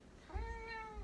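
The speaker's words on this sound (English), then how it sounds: "And she's also a cat." A pet cat gives a single drawn-out meow, faint and close, rising then falling in pitch over a quiet indoor background with no voices.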